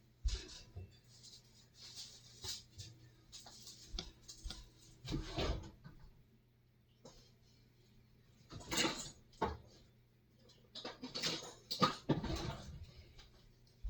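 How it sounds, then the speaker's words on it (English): Garlic is chopped with a knife on a board in a kitchen, quiet clusters of rapid tapping and scraping strokes separated by pauses, close and faint. "grab some garlic, and chop that up."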